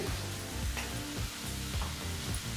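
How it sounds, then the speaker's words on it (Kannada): Vegetables sizzle steadily in a hot pan while being stir-fried for fried rice, a constant close frying hiss broken by regular scraping and stirring strokes from a spatula. "ನೀವೇನು ತರಕಾರಿನ ಫ್ರೈ ಮಾಡ್ತೀರಾ ಈ ರೀತಿ ಮಿಕ್ಸ್ ಮಾಡ್ತಾನೆ ಚೆನ್ನಾಗಿ ಫ್ರೈ ಮಾಡ್ಕೋಬೇಕಾಗುತ್ತೆ"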